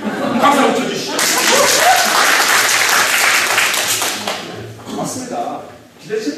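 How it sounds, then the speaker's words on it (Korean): Audience applause at a talk, loud clapping swelling after a moment of voices and light laughter, then fading with a few scattered claps and speech near the end. "박수 한번 쳐주시죠."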